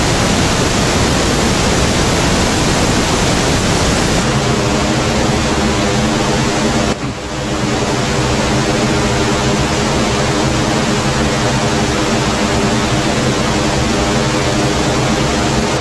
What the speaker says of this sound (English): So this is one of the McDSP delays, the EC300 thing.